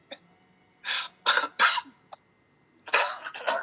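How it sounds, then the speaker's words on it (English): A person getting over a cough gives several short, harsh, breathy coughs close by, first three in quick succession, then a pause and two more, with near silence in between. "getting over a cough"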